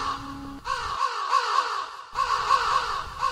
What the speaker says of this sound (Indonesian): tiba-tiba mereka dikejutkan dengan suara burung gagak. Bukan cuma satu, tapi sepertinya puluhan burung gagak.